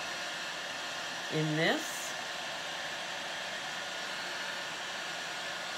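A heat gun warms the inside of a silicone cup used for resin as a steady, loud airflow hiss, with a short voice phrase near the start.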